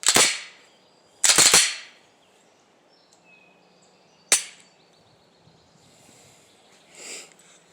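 Gunshots ring out at an outdoor shooting range, two loud sharp cracks close together, then a third shot after a pause and a fainter distant report near the end, with quiet between.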